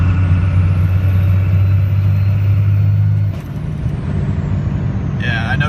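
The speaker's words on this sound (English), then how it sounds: "you're going to hear this thing really whistle on 5x5" A 1999 Dodge Cummins turbo diesel with a BHAF turbo runs at full throttle, a loud engine drone under a thin, high turbo whistle that climbs steadily, then the drone drops off and the whistle fades, with a short chirping burst at the end.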